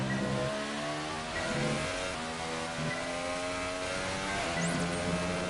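An F1 car engine screams at high revs in the video game F1 2018, shifting through rising and falling tones as it races, loud and constant with no talk.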